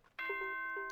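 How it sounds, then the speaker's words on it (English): Doorbell-style chime from the Danganronpa video game, a clear two-tone ding-dong that rings out alone, close and bright, with the second tone following shortly after the first. "Ding dong."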